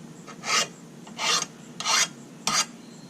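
Four rhythmic rasping strokes of a file sharpening a lawn mower blade, each lasting about a third of a second with short pauses between, close and clear with no speech.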